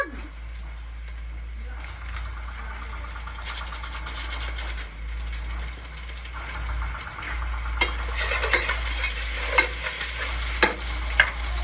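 Onion and garlic fry in a pan, with steady sizzling and stirring that grows denser and brighter near the end, and a constant low hum underneath.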